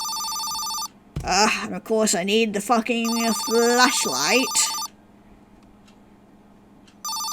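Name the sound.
phone ringing in a horror video game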